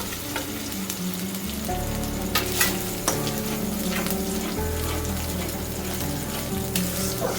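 Cashew and peanut paste frying with spices in a pan for coconut potato dum, a dense steady sizzle with scraping stir strokes and occasional clinks, close and continuous throughout.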